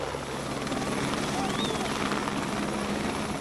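A helicopter flies over a rural Kenyan constituency during election campaigning, its steady rotor drone loud and continuous throughout, with no break or fade.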